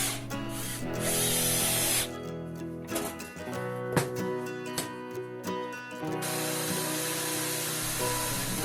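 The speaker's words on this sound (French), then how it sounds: "La fraise découpe la forme du haut en suivant la forme du bas grâce au roulement à billes" Router bit with a ball bearing trimming a wooden board in a workshop, a steady loud whining buzz that drops briefly to a lighter hum midway before the full cutting roar returns.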